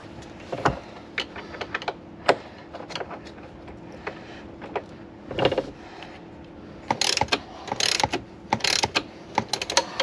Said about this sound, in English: I'm not tightening these bolts all the way. I'm just getting them fairly snug.